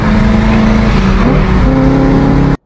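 A BMW S65 engine revs hard and loud, its tone climbing toward 9,000 RPM before cutting off abruptly.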